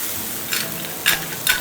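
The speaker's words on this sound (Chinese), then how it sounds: "现在给它倒入啤酒。" Beer hits stir-fried clams in a hot wok, producing a continuous close sizzle with a few sharp bursts of crackling and hissing.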